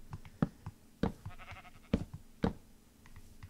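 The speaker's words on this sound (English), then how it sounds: "What is that, a sheep?" Sheep bleating in the Minecraft video game, several short bleats at a steady pace across the clip, fairly clear over a quiet background with no talking.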